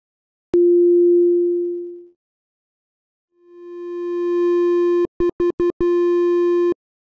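Pure synthesizer oscillator tone from the Nave synth, a clear steady hum that swells and fades, then returns brighter and buzzier and ends with a quick run of five short stuttered pulses before a final held note.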